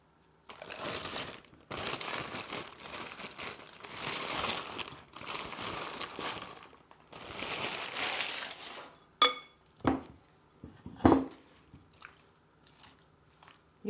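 Roasted pumpkin and garlic being mashed with a fork or potato masher, a series of soft squishy crushing strokes followed by a few sharper clinks and taps, close and moderately loud.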